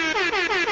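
An air horn blares in short repeated pulsing blasts, loud and close, with a brief dip between each blast and no talking over it.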